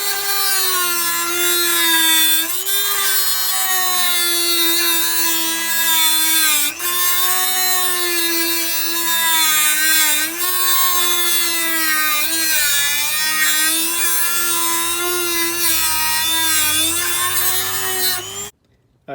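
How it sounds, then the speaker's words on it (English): A power grinder works on the front wheel shaft of a Baby Jogger City Select stroller, giving a loud, steady, high whine that wavers slightly under load for nearly twenty seconds before stopping abruptly. "and it's time to grind again."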